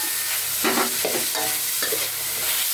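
Pork belly is stir-fried with seasonings and green onion flowers in a pan: a constant loud sizzle with repeated scraping stirs of a utensil, and no talking.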